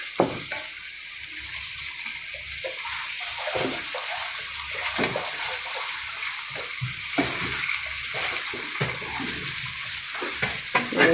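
Patin fish cooking in a pot of curry made without coconut milk, a steady soft sizzle and bubbling with occasional faint stirring clicks, no talking.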